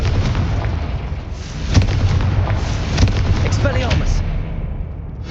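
The Confringo blasting spell going off in Hogwarts Legacy, a loud, booming burst with rumbling explosive thuds that fill the clip and trail off near the end, no talking.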